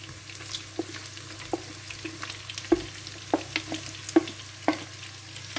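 Chicken and onion cook in a pan as a utensil taps and scrapes in a steady stirring rhythm over a soft, constant background sizzle, with no voices.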